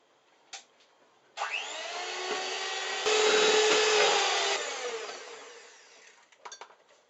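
An electric whisk mixes salted caramel in a bowl with a steady, bright whirring drone that starts abruptly, grows louder midway, then winds down, with small clinks before and after and no voices.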